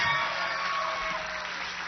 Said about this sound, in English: A big round of applause for Virginia and Samuel, everyone